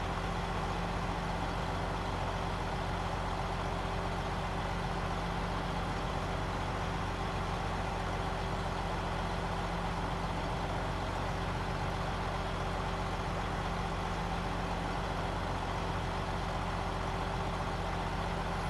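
A Mack truck engine drones steadily in the Snowrunner video game, a constant low rumble with a fixed hum that stays loud and unbroken throughout, with no talk.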